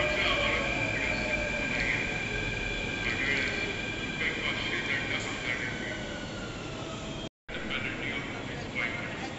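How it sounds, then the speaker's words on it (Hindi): A metro train arrives, rumbling and humming steadily through a busy station, with a high whine from the motors and a crowd talking in the background. "मेट्रो हमारी आती है थोड़ी देर में और हम मेट्रो पकड़ लेते"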